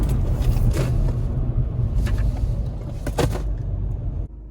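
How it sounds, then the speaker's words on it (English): Strong low rumble from inside a car accelerating and then braking heavily, a steady droning cabin noise with a few rattling bursts before it cuts off abruptly; no talking. "Now acceleration. And heavy braking."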